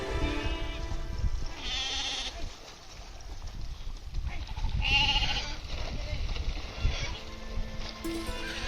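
Goats and sheep in a Sambalpuri village bleat repeatedly, several loud calls overlapping at close range, while people talk in the background.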